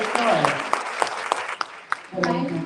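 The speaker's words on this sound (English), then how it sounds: "Yes, let's clap it up for that." Scattered clapping from a small group rises and fades, with a voice speaking over it near the end.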